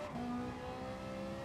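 A Ferrari engine in the GT Sport racing game holds a steady, sustained revving drone with clear harmonic tones, loud and continuous throughout with no voices.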